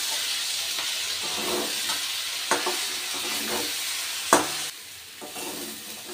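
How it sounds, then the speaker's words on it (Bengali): Spice masala of dried red chilli paste, turmeric and salt sizzles and hisses steadily in a hot pan for a shilong fish curry, with occasional clanks of stirring, close and continuous. "এবার সব মশলাগুলোকে ভালো করে কষিয়ে নেব।"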